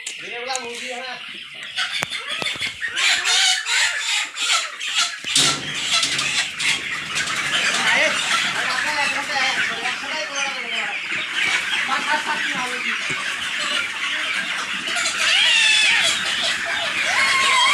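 Chickens on a farm cluck and squawk loudly and continuously as they are chased and caught for sale, with people talking and moving nearby.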